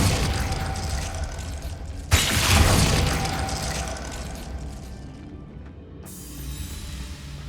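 Confringo and Glacius spells cast in rapid alternation in the Hogwarts Legacy video game: dense blasts, a sharp impact burst, a loud broadband whoosh and crackling magical effects layered over low rumble, with no voices.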